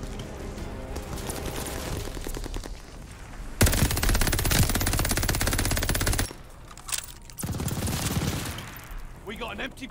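Sustained LMG machine-gun fire in the Call of Duty Vanguard video game, a long loud burst of rapid shots under ongoing game noise, with louder bursts in the middle and later sections.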